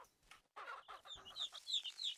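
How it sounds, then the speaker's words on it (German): A few chickens cluck and squawk in the ranch game Ranch Simulator, close and moderately loud after a brief pause, with no voices over them. "Die Hühner werden dich jetzt essen."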